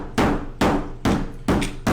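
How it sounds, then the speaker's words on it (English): A hammer strikes a smartphone fitted with a liquid screen protector four times at an even rhythm, each a sharp, close, loud knock that fades quickly, with no talking. "so that's our hammer test"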